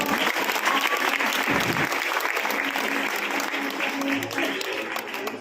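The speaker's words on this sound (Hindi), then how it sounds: "ताली बजाओ" An audience claps for a girls' Christmas nativity skit as the actor playing Joseph comes on, an even, continuous round of applause that stays loud throughout.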